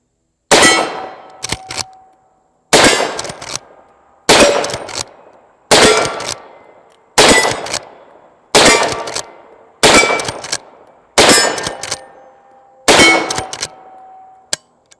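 Eight sharp shots from a cocked firearm, each a loud metallic crack with a short ringing decay, spaced evenly about every one and a half seconds with silence between.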